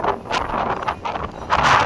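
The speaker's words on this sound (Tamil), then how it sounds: "காற்று வந்து அவ்வளோ காற்று அடிக்குது." Strong wind gusting on Kolli Hills at a hillside temple during rainy weather, a steady roaring buffet with rising and falling surges and a stronger blast near the end, close and loud against the microphone.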